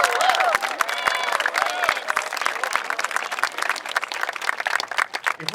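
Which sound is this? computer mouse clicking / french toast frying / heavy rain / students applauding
students applauding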